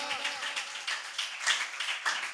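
Congregation at a Christmas sermon clapping in uneven, overlapping bursts, moderately loud and slightly distant, with no voices.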